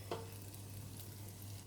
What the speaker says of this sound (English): We're getting a bit of a sizzle going on.